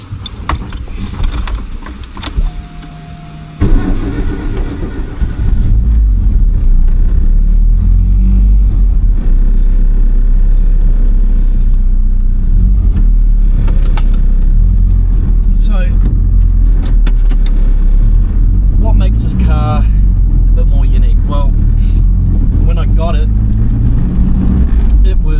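A Mitsubishi Express 4x4 van with a swapped engine drones steadily from inside the cabin while driving after a short quieter start, a continuous low rumble with occasional rattles and someone talking over it.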